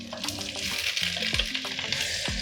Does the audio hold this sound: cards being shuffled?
no